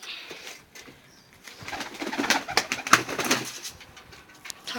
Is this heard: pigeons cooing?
yes